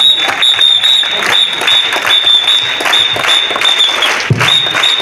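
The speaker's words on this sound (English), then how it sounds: "Three cheers clap, please." Audience applause at a priest's birthday celebration on a school stage, dense steady clapping filling the room close by, with a sustained high electronic tone running underneath throughout.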